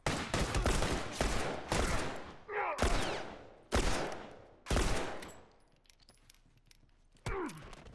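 Gunfire in The Last of Us multiplayer: a run of loud, close revolver shots in quick succession with short gaps, each decaying fast, and one final shot after a quieter stretch.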